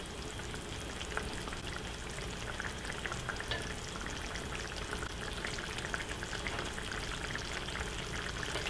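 Sichuan mapo tofu bubbling in a wok while being stirred, a continuous soft sizzling and bubbling hiss with faint scraping, fairly quiet and with no talk.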